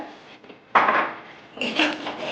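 Tomatoes simmering in water in a pan as they are stirred slowly: soft scraping and rubbing strokes of a utensil against the pan, in two close, fairly loud passes.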